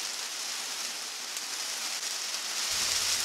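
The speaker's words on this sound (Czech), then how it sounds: "už zase prší. A fouká vítr." Steady rain falls with a constant, even hiss and no clear pauses or separate drops, and no voices are heard.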